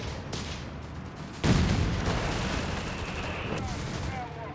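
Gunfire from a Company of Heroes 3 match between Wehrmacht and British forces, dense bursts and rattling volleys with one sharp loud crack partway through, heard under a game voice and a caster's commentary.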